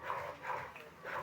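A dog barks three times, muffled and somewhat distant, in an evenly spaced series over steady background noise.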